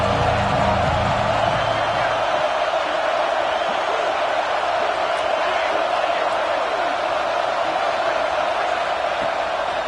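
Steady, dense roar of a college football stadium crowd backing the defense on a big third down in a Texas A&M vs USC game, loud and continuous throughout with no individual voices standing out.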